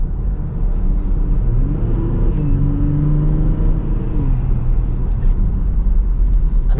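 A WK2 Jeep Grand Cherokee EcoDiesel fitted with a K&N charge pipe runs with a deep engine drone, over which a whistling turbo tone rises, holds and falls back across several seconds, close and moderately loud.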